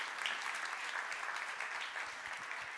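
A conference audience applauds to welcome Senator Cory Booker onstage, a dense, steady wash of many hands clapping at moderate distance, with no pauses.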